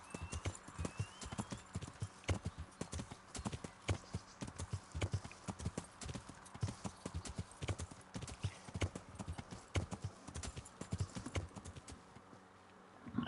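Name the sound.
horse hooves clip-clopping, video game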